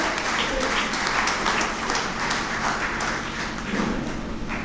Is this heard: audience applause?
yes